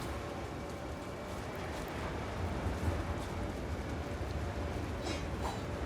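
Rain in Divinity Original Sin falls as a steady, even hiss with a low rumble underneath, moderately quiet and continuous, with no voices.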